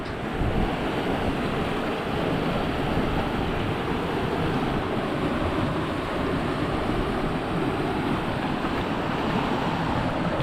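River water rushing against rocks in Kenya, a loud, dense, steady roar of turbulent flow with wind buffeting, continuous and close, no voices.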